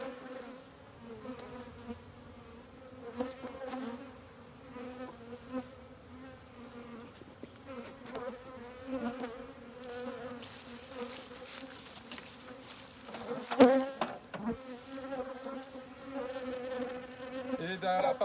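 Honey bees buzzing inside a Dadant hive, a dense steady drone with a rising and falling hum, close and continuous, with a brief louder burst of activity near the end.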